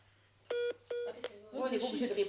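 A telephone call being placed, with several distinct dial tones sounding in sequence up close, then talking and background chatter taking over.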